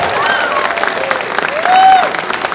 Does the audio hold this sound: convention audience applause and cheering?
yes